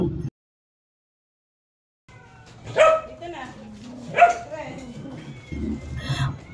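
A Pomeranian dog gives a few sharp, close barks and yips amid household talk, after a short silent gap at the start.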